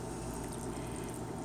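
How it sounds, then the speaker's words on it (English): Water pours steadily into containers packed with fresh cucumbers and salt brine, a soft continuous liquid rush, faint and brief. "And you finish topping off the containers with the water."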